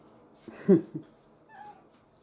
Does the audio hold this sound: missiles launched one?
no